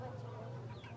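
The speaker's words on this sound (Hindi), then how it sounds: "मुर्गे भी मिल जाते हैं, असील के मुर्गे।" An Aseel rooster clucks at an outdoor market, a few short throaty clucks heard faintly over a low background hum.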